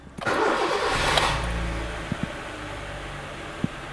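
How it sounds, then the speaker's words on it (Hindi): A car engine turns over and catches, then settles into a steady, smooth idle with a few faint clicks. "सुनाता हूँ कार की इंजन साउंड, इंजन किस कंडीशन में।"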